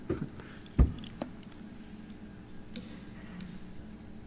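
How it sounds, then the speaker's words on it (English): Faint, steady ticking runs under low room noise, with one louder knock near the start and a few scattered small clicks, in a quiet indoor setting. "You can hear that ticking."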